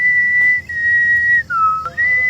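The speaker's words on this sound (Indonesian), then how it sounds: "Lalu tiba-tiba saja terdengar siulan jadu dari kejauhan." Long drawn-out whistle at night beside a bamboo grove, a single tone holding steady, dipping lower partway through and then rising back, clear and alone against a dark quiet background.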